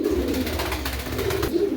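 Pigeons in a loft with fancy breeds such as Lahori, cooing close by in low, throaty, rolling calls that continue throughout the short stretch, with no talking.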